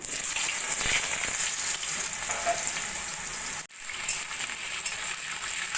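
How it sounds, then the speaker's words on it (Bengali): Cut potatoes fry in hot oil in a kadai, seasoned with black cumin and dried red chilli, producing a dense, continuous hissing sizzle with a brief dip and a small clink midway, close and steady. "আলু দু তিন মিনিট মতো ভেজে নিয়ে"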